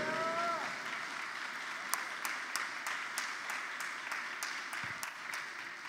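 A church congregation applauds to acclaim the Lord during a service, a steady wash of many hands clapping that fills the room, with a few louder individual claps standing out and no talk over it.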